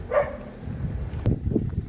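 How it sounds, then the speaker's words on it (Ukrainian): Dogs greeting arriving guests at a farm, with a short bark near the start, then yips and scuffling, and a low voice murmuring faintly beneath. "Собаки зустрічають."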